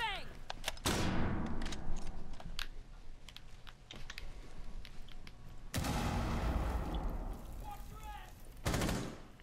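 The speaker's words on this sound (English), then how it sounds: "Throwing a flashbang." A flashbang grenade goes off in the tactical shooter game Rainbow Six, a sharp blast followed by a sustained roaring burst amid scattered gunfire, with keyboard clatter and a player talking over it.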